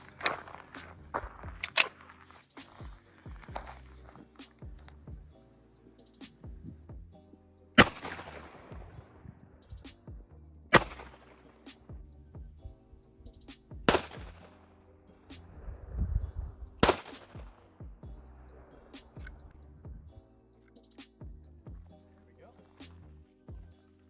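Five sharp gunshots from .45 and .44 rounds crack out a few seconds apart at the back of a 3A+ ballistic helmet on a dummy, with people talking in between.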